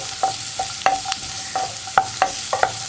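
Sliced onions sauté in a pan for okra masala, with a steady soft sizzle under a run of sharp, irregular spatula scrapes and taps against the pan, close and fairly loud.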